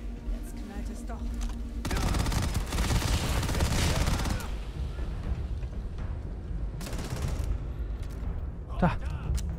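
Gunfire in Starfield, a sustained burst of rapid shots in the middle, then scattered further shots, loud and close over the game's ambience, with someone speaking at times.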